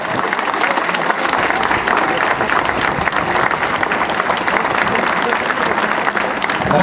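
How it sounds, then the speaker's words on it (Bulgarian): Loud, dense applause from a football club crowd greets a newly signed player, number 28, at a Botev Plovdiv team presentation, with steady clapping and crowd noise throughout and no pauses. "Аплодисменти за следващия град"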